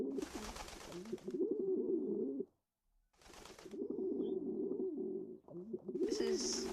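A video game pigeon coos in two long warbling stretches separated by a brief silence, steady and fairly close, with a short noisy burst at the start of each.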